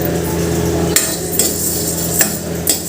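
Whole coriander seeds being stirred and dry-roasted in a pan, a continuous rustling scrape with a few sharp clinks of a spoon against the metal, close and fairly loud.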